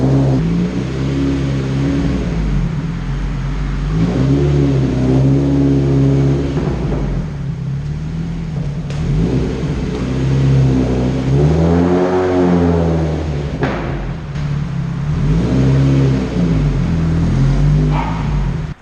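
A turbocharged four-wheel-drive Honda CR-V on dyno rollers, its engine droning loud and close with harmonics that climb and fall through a big rev sweep midway, then build again toward the end, steady and unbroken throughout.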